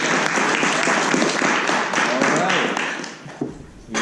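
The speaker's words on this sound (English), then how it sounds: "We'll give another round of applause to Zack." Toastmasters club audience gives a round of applause, dense and steady for about three seconds before tapering off, with a voice speaking over it.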